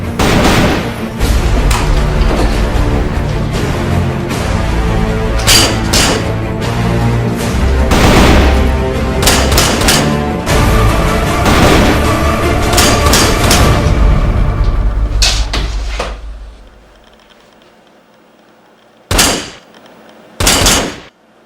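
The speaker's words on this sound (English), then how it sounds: "Why would you shoot a gun at a TV?" Gunfire aimed at a TV comes as loud, close bursts of rapid shots and heavy booms for about fifteen seconds, followed by brief silence and two final sharp blasts.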